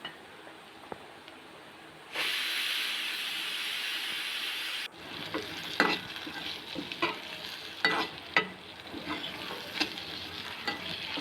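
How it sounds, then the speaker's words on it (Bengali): Potatoes fry with a little turmeric in a wok, a loud steady sizzling hiss that gives way to repeated close stirring scrapes and softer crackling. "এ পর্যায়ে একই কড়াইতে সামান্য একটু হলুদ দিয়ে আমি আলুগুলিকে ভেজে"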